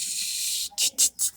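Oil sizzling in a hot pan for frying fish, a steady bright hiss that breaks into several short surging bursts near the end, close and fairly loud with no talk.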